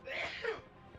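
A single person sneezes close by: a sharp, breathy burst lasting about half a second, trailing into a short voiced tail and faint breathing.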